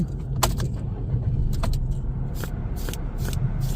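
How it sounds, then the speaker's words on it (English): A 2024 Chevrolet Trax RS, a small crossover, starting up with its key: a brief cranking catch settles into a steady low engine idle with a few clicks and rattles, heard close up inside the car. "we'll go ahead and start this baby up right now"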